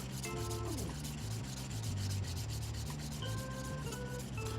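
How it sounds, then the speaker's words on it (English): A nail file rubs back and forth over a Rock Hard Gel nail extension, blending and thinning the surface in steady strokes beneath continuous background music. "A very nice soft touch as you're filing this area."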